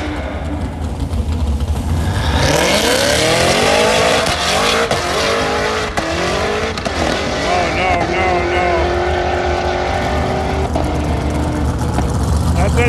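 A drag-racing dragster roars off the line and accelerates down the strip at St Thomas Dragway, a loud, sustained engine howl rising in pitch across several seconds, with spectator voices underneath.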